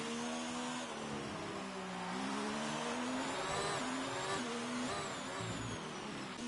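Race cars from the F1 2019 game at the Russian Grand Prix, engines whining steadily at high pitch with shifting tones as several cars drive close together, loud and continuous with no talk.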